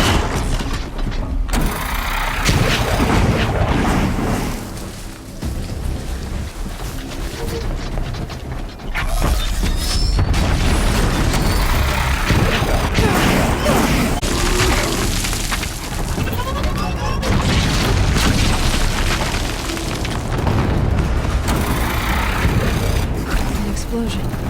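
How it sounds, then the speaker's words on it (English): Loud booming explosions in the video game Horizon Zero Dawn ring out amid clanking mechanical game effects, with a player talking over the action. "An explosion."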